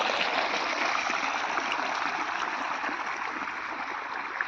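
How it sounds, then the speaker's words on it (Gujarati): Water from a running pump motor flows steadily through an irrigation channel on a farm, giving a continuous soft rushing and trickling wash with no voices. "જો અમારે આ મોટર ચાલુ છે પાણી આવે છે"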